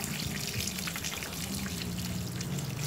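Water is poured and rinsed over a Javan gibbon during a morning bath, a steady close splashing and trickling that runs without a break.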